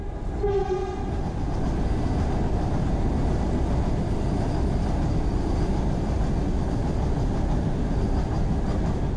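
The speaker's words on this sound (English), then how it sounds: "Our train finally got clearance at its scheduled departure time of 16:35 hours, and we started rolling" An Amrit Bharat Express train's horn sounds briefly at the start, followed by a steady low rumble of rolling rail cars as it departs, continuous and fairly loud.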